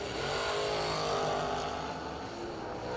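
Drag racing cars at a bracket race, a round of orange-stickered box door cars, roar as a steady broad engine drone with a faint accelerating whine, loud and continuous without talk.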